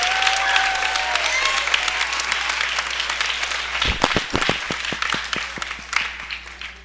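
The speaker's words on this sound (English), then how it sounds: "Give them a round of applause." Applause from the crowd at a middle school graduation ceremony, steady and dense at first, then thinning into scattered individual claps, with some voices in the room.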